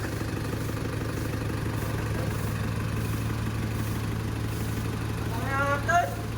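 An Isuzu Trooper engine with low compression runs at a steady, uneven idle, a close low rumble that continues throughout, with a brief sharper noise near the end.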